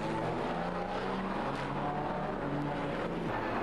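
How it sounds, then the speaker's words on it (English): Pre-1961 front-engined Grand Prix racing car, a Lotus 16 at historic Monaco practice, its engine snarling loudly and continuously as it passes close by, with pitch shifting throughout and no speech. "Next car coming into the picture is the Lotus 16 of Philip Walker"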